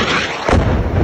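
A building explosion bursts loud and close, a sudden broad blast partway through that rolls into a heavy, rumbling roar continuing to the end; no speech.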